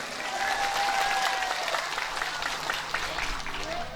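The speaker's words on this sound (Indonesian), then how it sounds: "Tepuk tangan tuh muslimat." Applause from an audience of women at an Islamic religious lecture in Tanjung Jaya, Lampung, a steady dense clapping that fills the whole stretch at close range.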